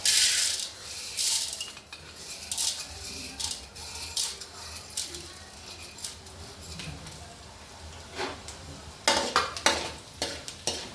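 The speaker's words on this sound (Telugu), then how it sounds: "ఆయిల్ కొంచెం వేడైన తర్వాత శనగపప్పు మినప్పప్పు వేసుకోవాలి." Chana dal and urad dal fry in hot oil for a tomato chutney, giving a soft sizzle broken by repeated metallic scraping and clinking of a spoon stirring in the pan.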